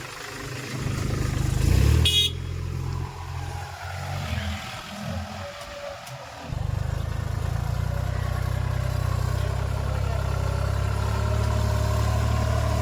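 A tractor engine running nearby, a loud low rumble at first that drops back for a few seconds, then returns as a steady, even drone.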